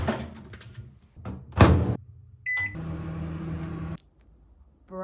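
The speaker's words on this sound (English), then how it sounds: "Put it in the microwave" A microwave oven heating a brownie cookie: door thumps and clicks open and shut, a short beep, then the steady mid-pitched hum of the oven running for about a second before stopping.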